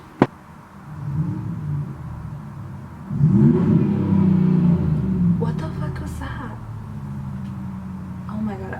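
A car engine revs outside, a rumbling rise that swells and lingers for several seconds, moderately loud and slightly distant.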